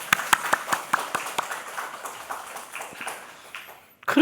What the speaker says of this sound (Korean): 행복하게 살아라 박수 한번 더 쳐주세요.